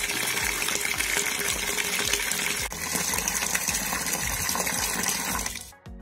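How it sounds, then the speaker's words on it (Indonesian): Water gushing from a tap into a bucket, about 2.5 liters for mixing a salt weed killer, a loud continuous splashing fill that cuts off abruptly near the end. "Kita kasih air."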